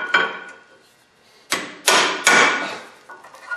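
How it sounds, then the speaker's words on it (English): Several heavy metallic blows from a big hammer during Honda Civic front wheel bearing replacement ring out, spaced irregularly, each a sharp loud strike with a short ringing tail. "every home mechanic's favorite solution, a big hammer"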